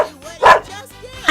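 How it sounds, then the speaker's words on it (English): Filbert the dog barks once in a short loud burst partway through, with speech-like voices around it in a cartoon scene. "I think Filbert is barking to say hello."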